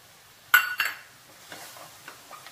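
A spoon scrapes and clinks against a pan as milk powder is stirred into melted powdered sugar for coconut barfi, two sharp clinks up close followed by softer, sparser scraping taps.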